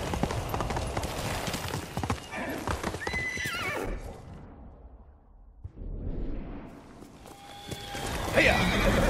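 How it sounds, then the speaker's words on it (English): A horse gallops and loudly neighs in Ghost of Tsushima, with rapid close hoofbeats, a brief near-silent lull, then renewed galloping amid game effects and a voice. "Good horse, Nobu."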